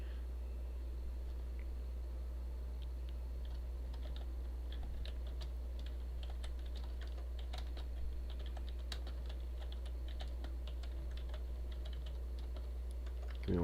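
Computer keyboard typing, a quiet run of irregular key clicks and short bursts of keystrokes over a steady low hum, close and faint.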